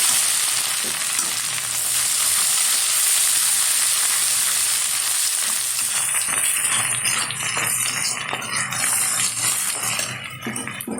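Paneer, cauliflower and peas sautéing in a pan with ground cumin, chilli powder and ginger paste, a steady close sizzle and hiss with occasional rattles and clinks of stirring, no talk.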